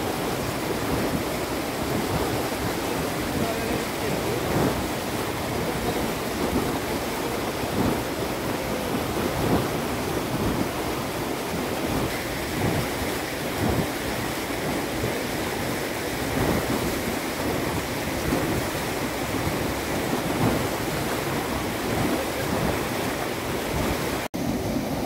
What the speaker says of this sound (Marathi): सातारा जिल्ह्यातील धोम कालवा जो आहे तो आता पुन्हा फुटलेला आहे